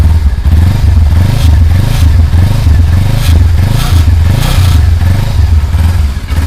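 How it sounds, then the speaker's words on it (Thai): A 2015 Kawasaki Z300 motorcycle exhaust revs loudly and steadily, its deep engine note rising and falling in repeated pulses, close by with some clatter. "อ่าเสียงท่อนะครับ"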